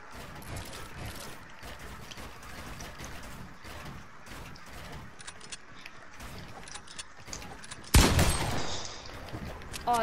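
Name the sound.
purple tactical SMG firing, from video game Fortnite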